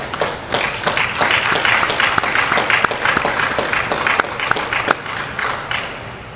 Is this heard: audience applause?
yes